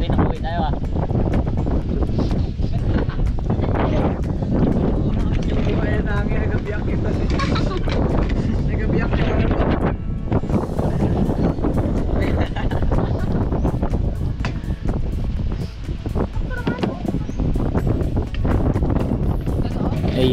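Strong wind buffets the microphone with a constant roaring rush, and voices talk intermittently beneath the gusts.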